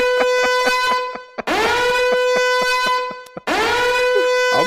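Loud blaring air horn used as an alarm sound effect, sounding in long tonal blasts with rapid pulsing bursts, repeated twice with a short gap between the sounding passages.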